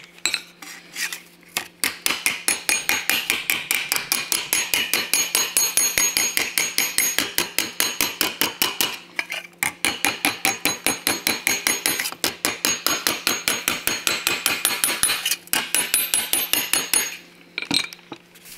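Rapid, steady metal hammering on a steel patch panel for a Talbot Sunbeam Lotus, with dense ringing blows in fast runs and a few brief pauses, loud and close throughout with no talking.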